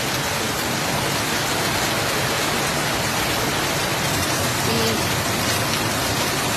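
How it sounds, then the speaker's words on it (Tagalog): Steady, dense roar of heavy rain pouring down, with a broad rushing wash that suggests gusting wind, continuous and loud throughout with no talking. "Ang lakas ng hangin at ulan."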